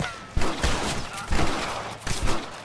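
Gunfire crossfire in the Western video game Red Dead Redemption: several loud, sharp shots burst out in quick irregular clusters, with a few near blasts standing above a busy background.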